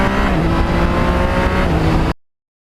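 A Yamaha MT-09 motorcycle engine revs hard and close, holding a loud, steady high-rpm wail for about two seconds before cutting off abruptly into silence.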